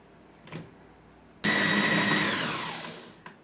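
A brief knock, then a food processor chopping vegetables whirs on loudly, its motor roaring steadily and winding down slightly over two seconds before stopping.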